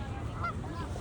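Canada geese honking alongside rock doves and mallards, one short nasal honk standing out near mid-clip over a steady, busy outdoor background.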